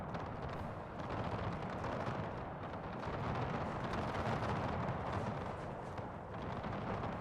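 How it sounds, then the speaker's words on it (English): Artillery fire from a Napoleonic-era battle video game, heard as a dense, continuous rumbling roar of distant shell impacts and blasts. The low, muffled barrage stays steady throughout with no speech. "Artillery shots are landing close to here."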